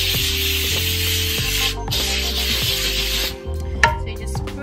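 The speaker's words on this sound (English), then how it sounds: "So you just sprayed the pan" Coconut oil cooking spray hisses onto a pan in a long, loud, continuous burst, followed by a quieter pause and a short clatter near the end.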